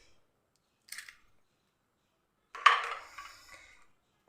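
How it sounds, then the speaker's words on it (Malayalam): An egg cracked on the rim of a pan for a healthy coconut snack, a short sharp tap, then a longer wet splat and trickle as it pours into the pan, close and clear with no talk. "ഇനി ഇതിലേക്ക് ഒരു മുട്ട നമുക്ക് പൊട്ടിച്ചങ്ങ് ഒഴിച്ചു കൊടുക്കാം, നമ്മുടെ ചട്ടിയിൽ പിടിക്കാതിരിക്കാൻ വേണ്ടിയിട്ട്"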